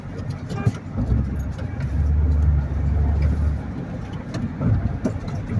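Street traffic in Saudi Arabia on a school and office day, a steady low rumble of passing cars and engines with a swell in the middle, heard nearby with no talk over it.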